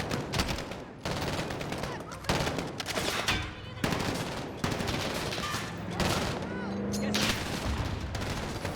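Dense bursts of gunfire in a Call of Duty story campaign battle, rifle and machine-gun volleys crackling in loud, rapid clusters with brief gaps, mixed with distant battlefield rumble.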